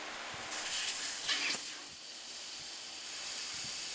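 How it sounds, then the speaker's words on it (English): Air hisses steadily out of a tire valve stem with the core removed, a soft continuous rushing that swells, eases off, then carries on faintly. "Do not move it while the air is coming out of the tires."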